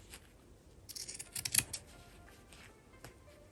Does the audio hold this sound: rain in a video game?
no